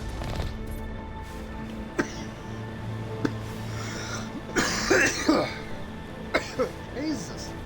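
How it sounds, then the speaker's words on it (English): A man with a lingering nasty cough hacks several times, with short bursts near the start and a louder, harsher cluster of coughs and throat clearing later, amid game sounds and talk. "this nasty ass fucking cough won't go away"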